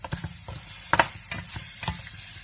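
Tomatoes fry over high heat in a pan during village-style aloo gosht cooking, with scraping stirs and bursts of sizzle recurring every half second or so, close and fairly loud, no talking.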